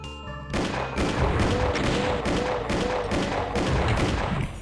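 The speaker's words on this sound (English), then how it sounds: "I'm just gonna kind of walk around and shoot stuff that I can with the pistol." Gunfire in the Doom II video game, level one, with a run of evenly spaced loud shots repeating roughly every half second, punchy and close against game ambience.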